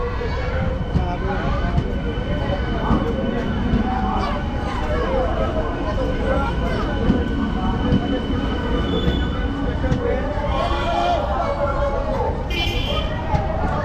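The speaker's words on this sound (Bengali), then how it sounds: "তো ফাইনালি চলে এলো আমাদের আমগাড়া স্টেশনে আজকে উদ্বোধনী স্পেশাল ট্রেন" The inaugural special train on the new Krishnanagar–Amghata line pulls into Amghata station with a loud, continuous rumble and squealing wheels, voices audible beneath it throughout.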